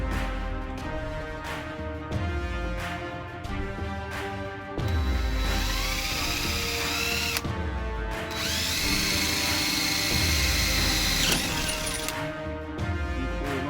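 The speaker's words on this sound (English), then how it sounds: "So we're going to drill the holes" A power drill whirs close by in repeated bursts, boring holes through a cover on an e-bike fishing trailer, its pitch rising and dropping as it bores, with brief stops between holes.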